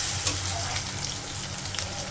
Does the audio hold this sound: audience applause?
no